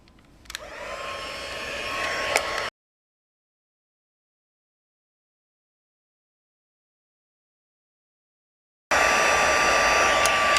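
A heat tool blows steadily as it melts white embossing powder on a greeting card, a loud continuous whirring hiss that runs about two and a half seconds, drops out to silence, then returns just as strong.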